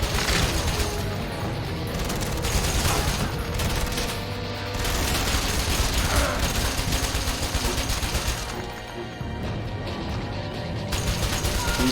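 Gunfire in the Wanted video game, a dense, continuous barrage of rapid shots and crashing impacts that stays loud throughout, with only brief dips in intensity.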